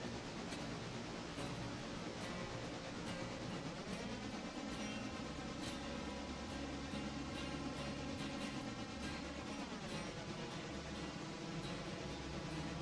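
A passenger train in a modded railroad simulator rolls along with a continuous heavy rumble and clatter, while tonal engine drone rises and shifts partway through, steady and moderately close.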